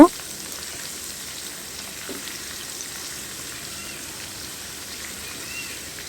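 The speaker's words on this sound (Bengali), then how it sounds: "এখন আমি তেলের মধ্যে আদা রসুন একটু ভেজে নিব।" Ginger garlic paste frying in oil in a pan while pulao is being made, a soft, even crackling sizzle at moderate level, with an initial clatter and occasional faint stirring touches.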